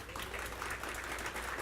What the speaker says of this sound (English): Let's give the DeKalb Chamber a round of applause.